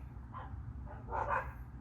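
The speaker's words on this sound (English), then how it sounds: "sorry for my dogs" Indoor dogs give a couple of short, muffled barks and yips close by, over a low steady hum, with no talking.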